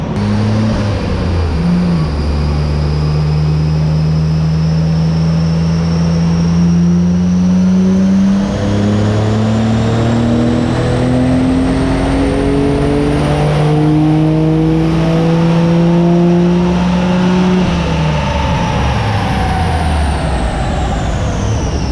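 Car engine revving hard on a dyno, loud and close, winding up through repeated long pulls with rising pitch, dropping briefly between them, with a constant roaring drone and no talk.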